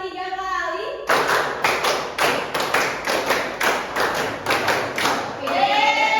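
Children in a classroom clap out a counted rhythm pattern, about a dozen sharp, close claps in uneven groups, with a teacher's voice heard just before and after.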